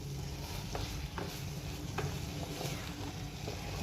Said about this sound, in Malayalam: എന്നാൽ മാത്രമേ ഈ സവോള നന്നായിട്ട് വഴണ്ട് തക്കാളിയും നല്ലതായിട്ട് വെന്ത് വരുള്ളൂ